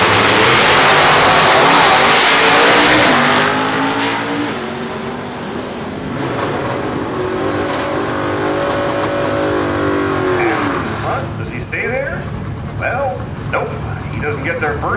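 Drag racing cars with medium engines launch and roar down the Woodburn Dragstrip, one a 4-speed car, loud and close, the revving engines rising and shifting as they pull away, with an announcer talking over them.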